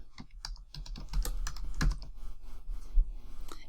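Quiet, close computer keyboard typing while renaming a color in BERNINA V9 embroidery software, a run of irregular soft key clicks with a few sharper taps, heard alone.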